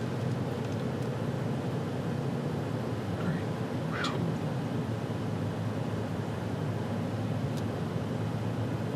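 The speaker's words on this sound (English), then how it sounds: "I can hear the air moving through all the ducts, and it's the loudest thing in the car." Steady rushing air from the climate system blows through the cabin ducts of a 2020 Rolls-Royce Cullinan, a constant broadband hiss with a couple of faint brief chirps over it.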